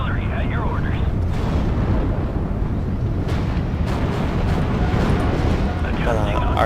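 Artillery barrages in the WWII strategy game Steel Division: Normandy 44, a steady loud rumble of distant booms and blasts running throughout, with brief radio-style voice lines layered over the bombardment.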